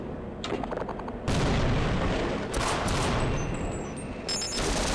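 A grenade blast in the co-op shooter Sven Co-op lands as a loud, sudden boom with a rumbling tail, surrounded by sharp bursts of gunfire and clattering impacts.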